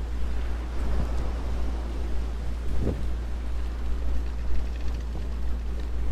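A ship under sail at sea in Forgotten Seas: a steady low hull rumble with wind and rushing water, plus a faint thump or two, with no talk.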